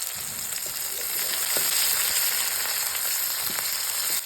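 Onion, dried chilli and garlic with turmeric frying in leftover fish-frying oil, a steady broadband sizzle throughout with a few soft stirring knocks, no talk.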